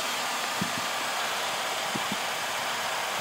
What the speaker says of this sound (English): All these newer motors, they all sound like sewing machines.